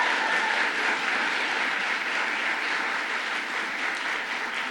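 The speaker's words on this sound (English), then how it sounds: "let's give her a round of applause for all the work she does" An audience applauds steadily at a governor's bill-signing event, a continuous, even wash of clapping at moderate level with no speech over it.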